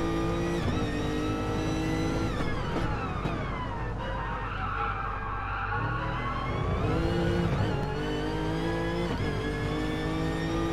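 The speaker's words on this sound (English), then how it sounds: "That Lexus engine sounds fantastic." A Lexus touring car engine in an online racing game at Laguna Seca revs loudly and continuously, pitch climbing and dropping through gear changes, with a brief deeper dip midway; no talking.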